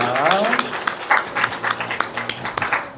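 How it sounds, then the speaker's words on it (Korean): A church congregation claps in praise during a Sunday service, the claps coming in distinct bursts that only partly fall into a rhythm, over a low sustained tone and a brief voice at the start. "우리 하나님께 영광의 박수를 드립니다."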